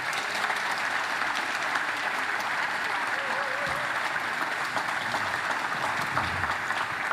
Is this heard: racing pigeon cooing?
no